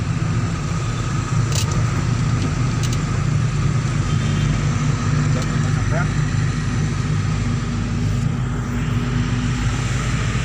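Steady low engine drone of traffic on a road, a truck passing close by with continuous rumble throughout, loud and unbroken, with people talking faintly over it.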